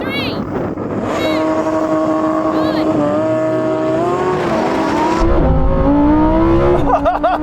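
High-revving engines of a Lamborghini Huracan STO, Ferrari 488 Pista and Porsche GT3 scream through a drag race, pitch climbing through gear shifts as the loud, sustained roar passes close by.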